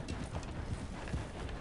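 A horse's hooves clip-clop in a video game, a soft, uneven run of hoof strikes at moderate distance with no talk over it.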